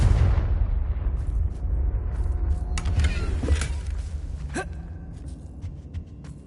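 A Confringo fire spell explodes in Hogwarts Legacy, a loud broadband boom that fills the opening seconds and then rumbles and fades, with sharp crackling bursts and whooshing magical effects following.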